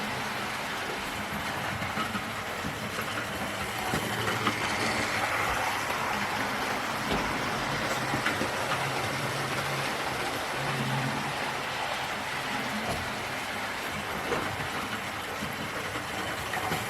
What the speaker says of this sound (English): Let's wait for the train to go by.